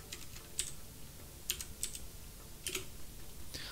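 Keyboard keys pressed while navigating an Xbox cloud gaming menu in a web browser, a few sharp separate clicks spaced irregularly over quiet background.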